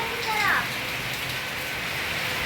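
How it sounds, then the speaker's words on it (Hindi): Steady broadband hiss of rain pouring down, with a brief chirping sound early on; constant and fairly loud throughout. "हे भगवान, इतनी तेज बारिश।"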